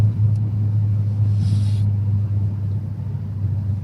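A turbocharged car with a suspected MAF sensor fault, pulled at full throttle on a road test that is losing boost, giving a loud, steady low engine drone and rumble heard from inside the car.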